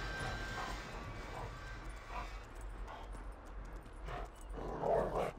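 A dog barks and whimpers in short bursts in Grand Theft Auto V over a steady low background hum, with a louder yip near the end.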